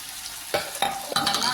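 Grated coconut and yellow pumpkin sautéed in a pan for poriyal: faint quiet background, then three sharp stir-and-sizzle bursts from about half a second in, the sizzle continuing steadily between scrapes, no voices.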